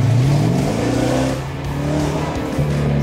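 A Corvette engine with a loud exhaust revs hard up close, the pitch climbing, dipping and rising again in repeated throttle blips that roar through the whole moment.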